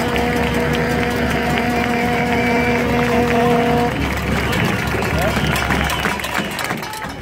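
Applause and cheering from a crowd at a multisector street protest noise rally in Lomas, dense clapping mixed with crowd babble and sustained tones from horns or whistles early on, fairly loud and close.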